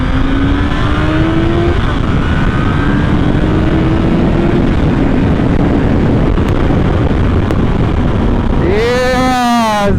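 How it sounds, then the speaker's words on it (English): A Kawasaki ZZR 1100 motorcycle engine roars loudly and continuously, pitch climbing through gears, with wind noise buffeting throughout and a rising whine near the end. "The gorgeous sound of that engine."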